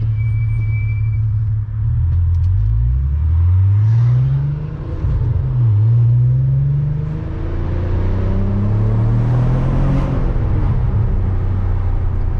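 A Nissan R32 car drives through an underpass, its exhaust rumbling loudly and rising and falling in pitch as the engine revs up and shifts, with the echo filling the space.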